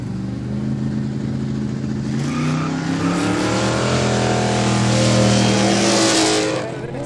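A Holden Commodore hatchback accelerates hard at a quick street drag event, its engine note rising loudly and steadily over several seconds before easing off near the end.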